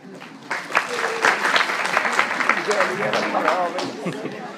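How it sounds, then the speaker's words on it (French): An audience in a public finance lecture session claps for Women's Day, with a burst of applause starting after a moment and continuing with uneven clapping, voices mixed in beneath. "on applaudit la femme"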